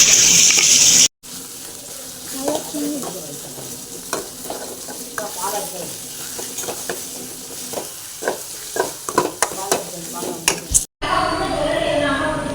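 Two beaten eggs stirred in a pan over a high flame: irregular scraping and clinking strokes of a spatula over a continuous sizzle, fairly close and loud, with brief talk in between.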